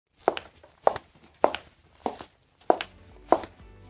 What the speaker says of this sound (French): Voici le son d'une chape flottante en cas de pathologie.